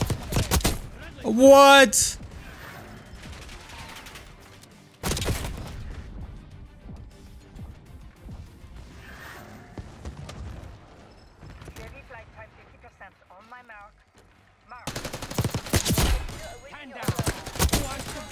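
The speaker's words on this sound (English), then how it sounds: "This is the gun I've been missing out on." Sharp gunshot bursts from a gun in Black Ops 6 come in several separated clusters, loud and punchy, with a voice speaking briefly between them.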